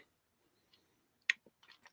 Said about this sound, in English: Excuse me, I'm chewing a candy.